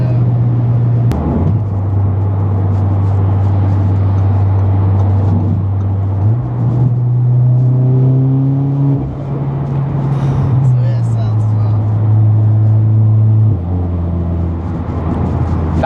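Audi S3 accelerating hard, a steady loud engine drone with rising gear-shift steps, heard from inside the cabin with people talking over it throughout.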